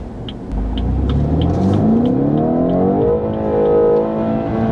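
A 2017 BMW 230i engine revs up from a low rumble into a rising, sustained whine, holds high, then eases briefly and climbs again, loud and close with no talk.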